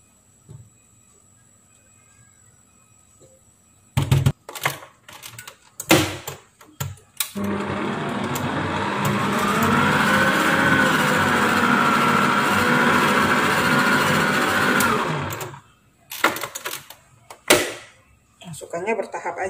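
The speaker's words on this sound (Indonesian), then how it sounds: "Masukkan pelan-pelan sambil kita mixer, tapi dengan kecepatan yang rendah aja." An electric mixer beats butter into egg batter for an Englisher cake at low speed, a steady whirring motor running for about eight seconds, framed by clattering bowl and handling sounds before and after.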